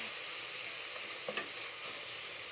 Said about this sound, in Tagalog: habang niluluto natin itong giniling